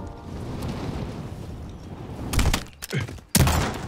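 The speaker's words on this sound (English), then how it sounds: "Now I hear gunshots" Gunfire in the Call of Duty Warzone battle royale game: a few loud, sharp bursts in the second half, after a steady low rumble of game ambience, with no talking.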